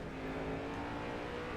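A race car engine on a track hums steadily as the driver downshifts to fourth gear, a brief continuous drone without talk.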